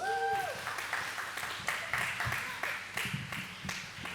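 Moderate applause from wedding guests after the groomsmen's speeches at a reception, with a brief tone at the start and voices faintly mixed in with the clapping.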